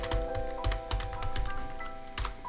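Rapid clatter of typing on a computer keyboard entering a website URL, close and crisp, with irregular bursts of keystrokes and short pauses between them.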